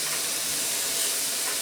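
Shrimp sauté in a hot pan for shrimp and grits, giving a steady, even sizzle and hiss that runs unbroken throughout with no talking.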